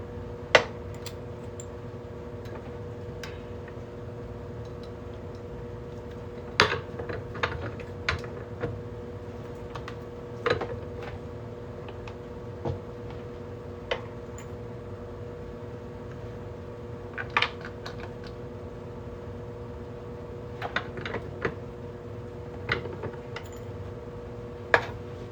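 A New York quarter is folded into a ring with metal tools, giving sparse sharp taps and clicks scattered over a steady low machine hum, with occasional clusters of light metallic knocks.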